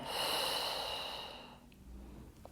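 A long, soft exhale through the mouth during a pregnancy back exercise with a resistance band. The breath is close and quiet, fades after about a second and a half, and leaves faint room noise.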